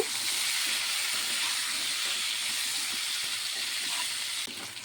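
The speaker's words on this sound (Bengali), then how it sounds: "নুন হলুদটিকে দিয়ে আমি আলুটিকে একটু ভেজে নেব।" Potato pieces seasoned with salt and turmeric fry in hot oil, giving a constant dense hiss and crackle close up that runs unbroken throughout, with no voices.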